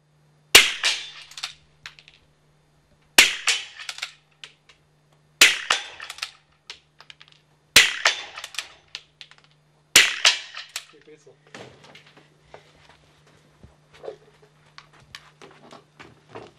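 A summer biathlon rifle fires a five-shot series without reloading, five sharp loud cracks at an even clockwork pace about two seconds apart. Faint clicks and clatter follow after the last shot.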